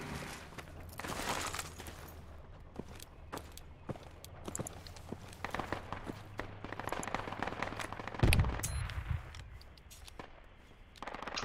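PKM machine gun fire in Project Reality rattles in sharp repeated bursts at moderate distance, mixed with scattered shots, footsteps and a heavy blast near the end, under faint radio chatter.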